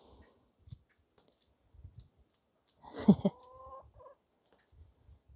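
Hens cluck in a short, close burst, followed by a few scattered soft clucks and rustles in an otherwise quiet backyard garden.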